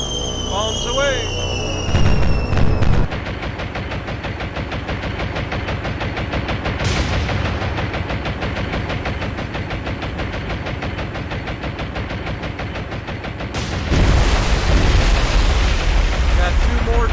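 Bombs explode and guns fire in the naval combat game War on the Sea during an attack on a battleship, a loud dense barrage of blasts and rapid gunfire that swells sharply near the end, with a voice talking over it.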